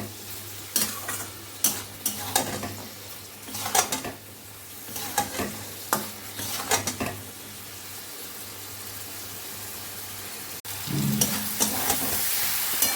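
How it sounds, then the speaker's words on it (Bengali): Chickpea ghugni sizzles in a pan as it is sautéed, with a spoon scraping and stirring in repeated strokes over a steady, close frying hiss. "কষানো চলছে।"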